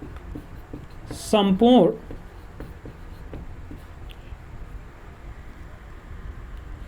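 Faint scratchy strokes of writing on a board during a physics lesson tick along quietly through the room, briefly interrupted by someone speaking a single word.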